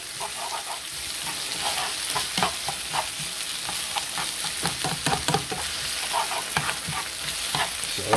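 Tomato paste is stirred into onions frying in a pan, giving a steady sizzle broken by frequent scraping and clinking strokes from the spoon, close and fairly loud throughout.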